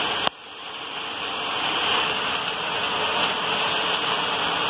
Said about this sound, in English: There's even hail.